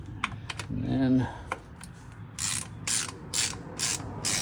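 A ratchet wrench clicks in short bursts on transfer case bolts of a Ford F-150, close and crisp, with a brief mechanical whir and several separated ratcheting strokes near the end.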